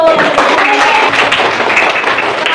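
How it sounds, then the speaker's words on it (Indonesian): Students in a classroom clap for a group during a lesson on simple fractions, a loud steady patter of hands with voices mixed in. "Kasih tepuk tangan untuk kelompok 1."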